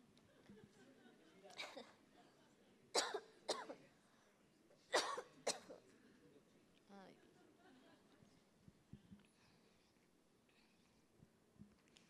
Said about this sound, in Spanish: compartimos el momento de la tos